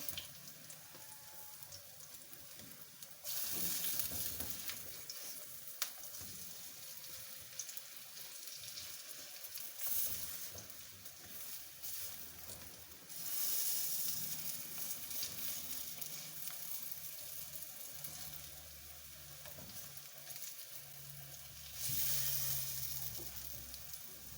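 Evening snacks frying in a pan, a steady hissing sizzle that swells in loud bursts at intervals as pieces are turned, with faint clinks and stirring between them and no talking.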